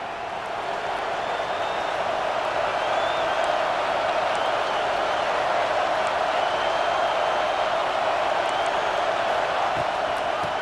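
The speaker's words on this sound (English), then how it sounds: "This crowd ready to make its presence known." A football stadium crowd at a Texas versus Mizzou game roars steadily before a snap, a dense, sustained wall of distant cheering and noise with a few faint whistles.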